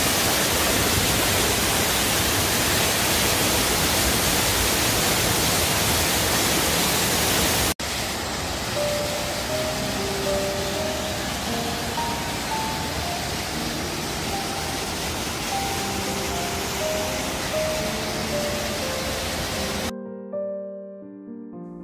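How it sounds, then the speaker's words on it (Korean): Yeonsan waterfall, an 18 m cascade in a chain of twelve falls, pours as a loud, steady roar of rushing water, then grows softer beneath music that plays until it cuts off near the end. "그 중에 연산 폭포가 제일 아름답다."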